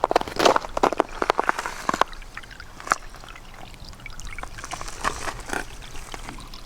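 Floodwater runs along a driveway on flooded land with a steady trickling, splashing flow, broken by irregular sharper splashes and a few footstep-like scuffs, near and moderately loud.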